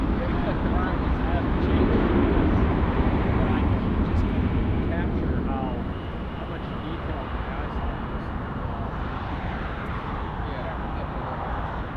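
A jet airplane taking off at night at Los Angeles International Airport, a steady loud broadband engine roar that eases slightly halfway through, with air traffic control radio talk running under it.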